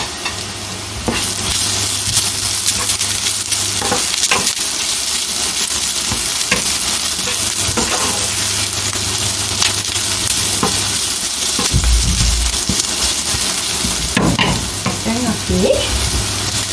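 Onions frying in oil, with salmon to be added next for a salmon themparaduwa, a loud continuous sizzle broken by repeated scraping and stirring clatters, with no voices.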